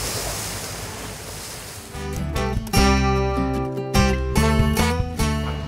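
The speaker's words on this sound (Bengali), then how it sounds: "এত ঢেউ কিন্তু এই বোট কিন্তু দুলে না" River waves wash steadily against a boat near Bangkok, a broad rushing water-and-wind noise that is soon overlaid by loud tonal music carrying on to the end.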